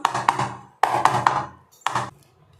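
Several hard knocks of a cake tin filled with chocolate biscuit cake batter against a countertop come in quick bursts of two or three, each ringing briefly before the next.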